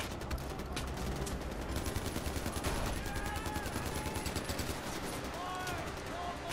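Enemy gunfire in Far Cry 4: rapid, repeated shots and machine-gun bursts, sustained and fairly loud over game ambience, with faint voices in the background.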